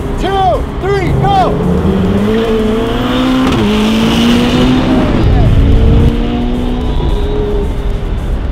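Sports cars, including a Ferrari 488 GTB, a Porsche 997.2 Turbo and a 992 GT3 RS, launch together in a race. Close, loud engines rev up through rising gear pulls and roar on steadily, with talk over the start.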